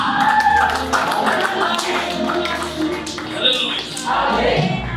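A church congregation claps along amid singing and raised voices, the applause a dense patter of hands mixed under the vocal sound, rising and falling through the passage.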